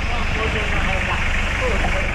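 Toyota Hilux with a replacement 3L engine swapped in for its original 2L, idling steadily at close range with a constant low rumble and no obvious rev changes.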